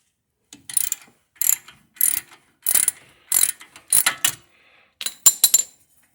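A hand ratchet loosens a 15 mm bolt on a 1995–2001 Ford Explorer during hub and brake work, giving about nine short bursts of crisp clicking separated by brief pauses, close and clear with no talking.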